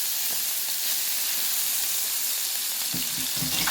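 Crushed garlic and chili peppers hitting a hot frying pan, a steady bright sizzle that swells as the mixture is stirred, with a few scraping knocks near the end and no talking.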